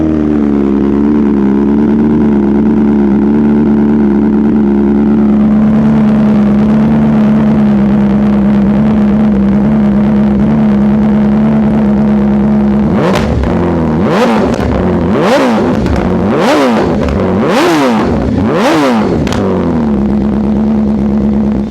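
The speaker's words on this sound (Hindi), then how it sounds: "एक बार आप आवाज़ सुनो बाइक की।" A 2021 BMW S1000 RR Pro superbike idling loudly up close with a deep steady engine note, then revved in a series of about six sharp rising and falling throttle blips.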